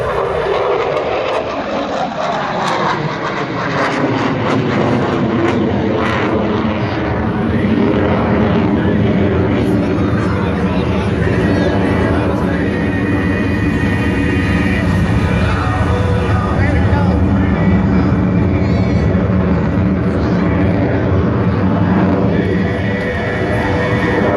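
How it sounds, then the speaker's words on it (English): An F-18 Super Hornet jet flies maneuvers at the Millville airshow, making a loud, sustained roar that rises and shifts as it passes, with a commentator speaking over it. "At the top of the climb, watch how the aircraft swap ends and rapidly moves back down towards the earth."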